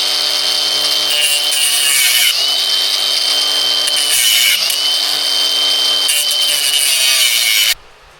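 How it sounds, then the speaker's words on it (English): A power tool cuts through welded lower bumper mounts on a Lexus GX470, a loud continuous high-pitched grinding whine with brief dips in pitch, then stopping abruptly near the end. "we got to cut these lower mounts off"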